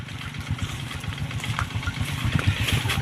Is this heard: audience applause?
no